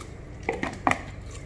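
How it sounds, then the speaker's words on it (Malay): Dry rice vermicelli goes into a cooking pot in a home kitchen while preparing baby food, giving a few light clattering knocks against the metal over quiet room background. "Kita masukkan bihun ke dalam periuk ni"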